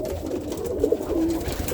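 Roller pigeon cocks coo in a brief, close, throaty burst of low warbling over a soft background murmur.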